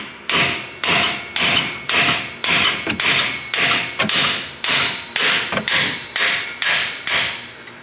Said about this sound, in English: I'm just gonna use a hammer.